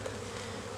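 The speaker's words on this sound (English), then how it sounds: "Look at all those bees. These are a lot of worker bees and other bees in general." Honey bees on a beehive frame holding nectar give off a close, continuous, dense buzzing hum for under a second, with no talking.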